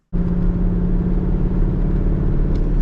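A 2003 C5 Corvette engine rumbles low and steady at close range, a throaty motor note with no voices over it.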